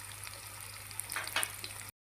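Onions browning in a pan, a soft, low sizzle with a faint steady hum underneath and a couple of brief crackling bursts near the end before it cuts off.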